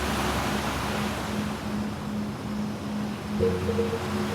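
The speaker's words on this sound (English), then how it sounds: "enjoy the calming sounds of the ocean" Steady ocean surf wash with a broad, constant roar and gentle swells, plus a faint low hum underneath, heard alone at a moderate level as a calming radio interlude.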